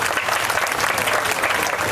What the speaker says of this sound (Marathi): ह्या मुलांकरिता एकदा टाळ्या.